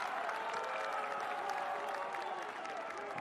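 Soccer crowd at a boys' state championship match between Belleville New Glarus and Plymouth, cheering and yelling as a continuous, fairly steady roar with some applause mixed in, heard from a distance.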